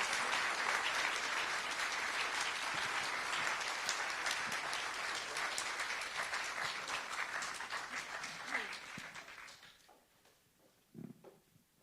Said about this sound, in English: Can we all give them a round of applause?